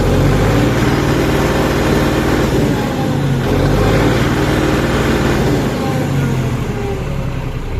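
A tractor engine runs loud and rough with a dense, throbbing drone, its revs swelling and dipping slightly in a repeating cycle over several seconds, close to the listener.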